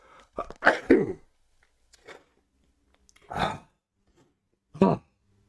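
A person sneezes and coughs in a quiet room, a few short, sharp bursts separated by pauses, close and fairly loud with no other sound between them.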